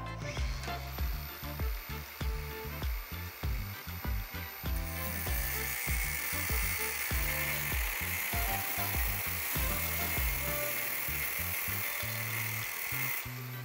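An angle grinder cuts a metal tube while braced on a support, scoring the piece lightly before cutting through. Irregular clattering knocks come first, then a loud, steady, high-pitched grinding hiss runs close up for the rest of the clip.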